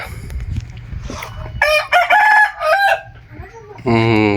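Village chickens with a rooster crowing loudly and close, a long cock-a-doodle-doo plus another crow at the end, with clucking and some quiet talk in the background.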